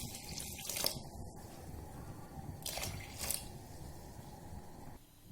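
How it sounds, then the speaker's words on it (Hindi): Water runs and splashes into a pot of beef for biryani, a close, quiet pouring with a few brighter splashy bursts and drips before it stops. "साथ हम गोश्त के हिसाब से पानी ऐड कर देते हैं।"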